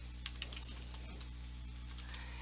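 Quiet keystrokes on a computer keyboard tap out a short abbreviation code, a few light clicks spread irregularly over steady low electrical hum, with no voices.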